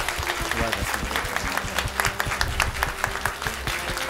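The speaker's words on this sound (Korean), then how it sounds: "박수 부탁드립니다" Steady applause from a church congregation at a long-service award ceremony for teachers, a dense continuous clatter of many hands filling the room, with a voice faintly underneath.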